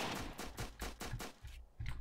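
Rapid bursts of gunfire in the video game Apocalypse Rising Reimagined, a fast regular string of shots, fairly faint, then a short pause and another burst.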